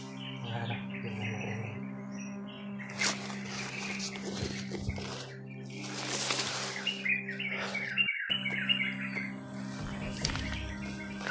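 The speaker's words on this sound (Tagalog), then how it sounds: "parang may uwak tol" A crow calls outdoors among scattered chirps and tweets from other birds, moderately distant, over a faint steady background hum.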